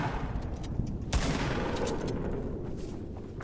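Shotgun blasts ring out in the video game Fortnite. A few sharp, loud reports sound over a busy wash of game noise, with one strong shot near the middle.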